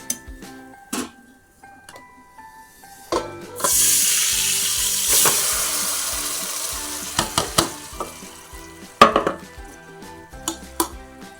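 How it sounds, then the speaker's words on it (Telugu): Chicken for a Hyderabad green chicken biryani sizzles and fries in a pot on the stove, a loud hissing burst with clinks and stirring knocks over several seconds, settling into quieter intermittent clatter. "పొయ్యి మీద చికెన్ వేసుకుందామండి."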